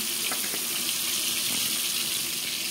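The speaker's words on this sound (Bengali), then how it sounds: "মাখানো মাছটা এখন তেলে দেওয়া হবে" Marinated fish sizzles in hot oil in a pan, a steady hissing crackle with scattered pops, close and fairly loud, no voices.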